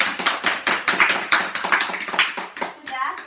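A school class of children does a rhythmic clapping cheer together, bursts of hand claps in a quick patterned beat that fill the room, loud and close, ending in a brief vocal flourish.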